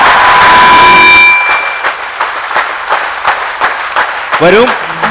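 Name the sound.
audience giving a big clap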